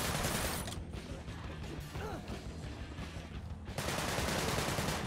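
Rapid automatic gunfire from a weapon in the game Sunset Overdrive, a dense clattering burst with crashing impacts, loud and close, running almost the whole time with no talking.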